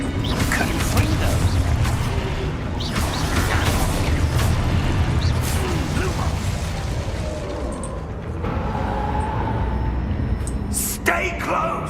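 In Hogwarts Legacy combat, a Confringo explosive spell blast goes off among continuous booming, crackling battle effects and impacts, loud and dense, while a player talks over the action.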